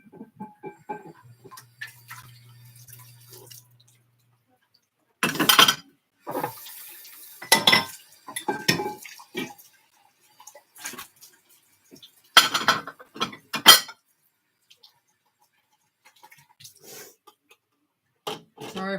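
Dishes and cutlery being washed in a dish pan of water: bursts of clattering plates and clinking silverware with splashing, coming in uneven clusters separated by quiet pauses, close and fairly loud.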